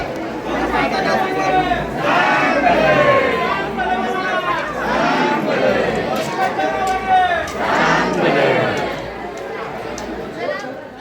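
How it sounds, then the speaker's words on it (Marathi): A crowd at Jyotiba temple chants the deity's name while waiting in a rainy queue. Many overlapping voices rise and fall in a continuous, close-up call, with swells of louder chanting. "गर्दी भरपूर होती ज्योतिबाच्या नावानं चांग भलं हा गजर चालू होता"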